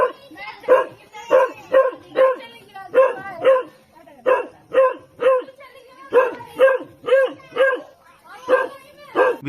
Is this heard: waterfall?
no